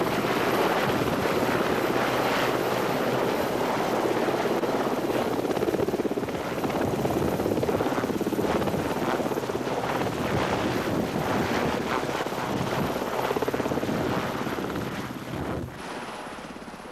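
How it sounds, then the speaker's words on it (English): RAF rescue helicopter arriving at a snowy mountain rescue in 1994, its rotor and engine roar steady and loud for most of the time amid gusting wind noise on the microphone, easing off near the end. "A helicopter was called in by another team of rescuers, and while they waited for it to arrive"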